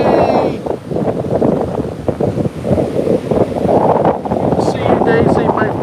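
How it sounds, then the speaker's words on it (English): Strong gusting wind buffets the microphone on a beach with surf rolling in, around 17 mph with gusts to 25, a continuous loud roar with swelling waves; a voice speaks briefly over it. "It's very windy."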